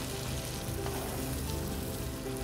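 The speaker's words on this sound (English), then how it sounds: "melt the butter. I'm adding the onion." Chopped onion frying in melted butter in a pan, a dense, loud, continuous sizzle and crackle up close, with no voices.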